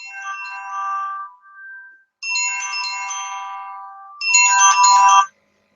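A phone ringtone sounds for an incoming call from work, playing three loud melodic bursts with a short gap between them, the last burst brightest, heard alone with no talking.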